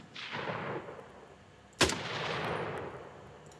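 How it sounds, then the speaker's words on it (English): Rifle gunshots from an Unreal Engine 4 weapon sound pack, two loud close shots, each with a sharp crack and a long rumbling tail, the second more abrupt and punchy, with no talk. "here we have a rifle cue"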